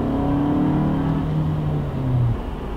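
A 2020 Toyota Camry XLE AWD with a 2.5 liter four-cylinder engine accelerating, a steady droning engine note rising in pitch under road and cabin noise, heard from inside the car.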